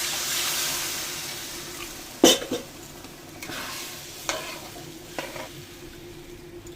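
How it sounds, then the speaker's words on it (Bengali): Water is poured into a pan of fried spice masala for a tangra fish curry, first a loud hissing rush, then a sharp burst of sizzling with a few clanks of the pan and stirring as it settles. "মশলাটা কষানো হয়ে গেছে, এবার এর মধ্যে জল দেবো।"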